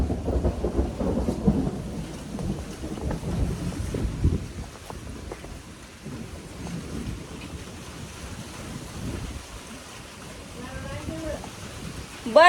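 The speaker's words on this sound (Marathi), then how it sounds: "एवढं आभाळ आले ना बाहेर आणि एवढ्या विजा चमकतात कडकड कडकड" Village thunderstorm with rumbling thunder, wind and rain, a heavy low roll early that eases into a steadier wash of rain and wind noise.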